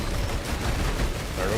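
Rapid, dense gunfire in a shooter video game such as Risk of Rain 2 or Killing Floor 2, a loud continuous barrage of overlapping shots with a voice talking over it.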